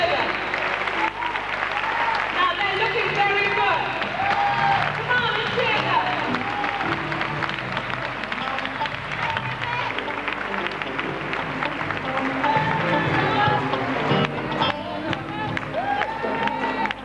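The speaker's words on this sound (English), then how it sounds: "at this time we're going to put our hands together" A gospel concert audience applauds and cheers a choir, sustained, dense clapping from a large crowd filling the hall at steady loudness, with crowd noise mixed in throughout.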